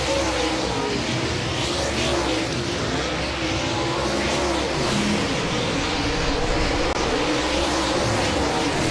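Super late model race cars roar around Humboldt Speedway in a World of Outlaws Late Model Series race, a dense, loud, continuous engine drone with overlapping revving cars and no clear break.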